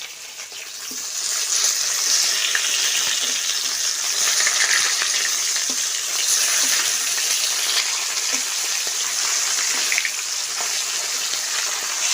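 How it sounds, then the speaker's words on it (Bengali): Pieces of snakehead fish frying in oil in a village kitchen, a loud continuous hiss and crackle at close range, steady throughout with no talk. "মাছের 1 পিস ভেজে নিয়েছি, আর এখন আর 1 পিস ভেজে নেব"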